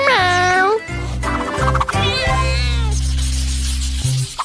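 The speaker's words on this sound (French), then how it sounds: "Miaou." A cat gives a drawn-out meow up front and a higher, wavering one partway through, over a steady low droning tone.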